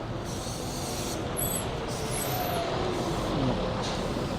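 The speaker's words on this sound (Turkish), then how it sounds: "Bu da benim Bahçeşehir'den buraya gelen otobüsüm." A city bus releases its air brakes with a hissing burst and soft pneumatic sighs over steady traffic rumble and engine idle, moderately loud and close, with no talking.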